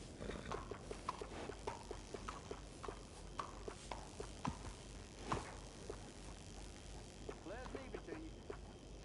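Horse hooves clip-clop at a steady walking rhythm in Red Dead Redemption II, moderately close, mixed with an ambient game soundscape and a voice speaking over part of it.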